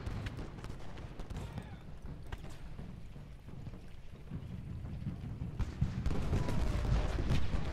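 Massed musket and cannon fire from troops in Ultimate General Gettysburg, a Civil War battle game, crackling in a dense, continuous volley that swells louder toward the end, with no talk over it.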